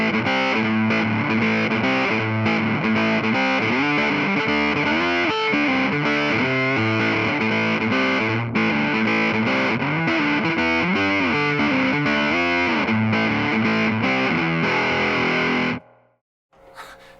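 An electric guitar plays through a Caroline Guitar Co. Shigeharu fuzz pedal with octave-up, rolled-off tone on the bridge pickup, giving a thick, saturated, buzzing riff that is loud and continuous and then cuts off sharply near the end.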